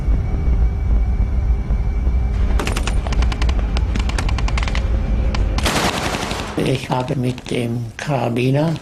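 Rapid machine gun bursts from guns on the cliffs above a D-Day landing beach in 1944, a dense rattling crossfire loud over heavy rumble, followed by speech.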